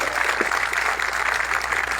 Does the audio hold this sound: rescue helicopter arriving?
no